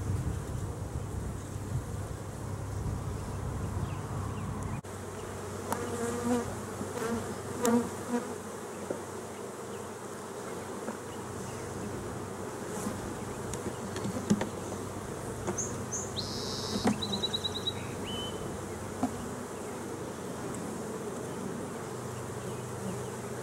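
Honeybees swarm around an open hive box holding ten frames, their steady buzzing hum filling the air up close, with the odd louder bee passing by and a few brief bird chirps.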